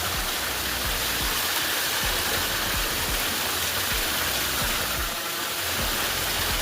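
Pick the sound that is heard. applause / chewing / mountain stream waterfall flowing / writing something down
mountain stream waterfall flowing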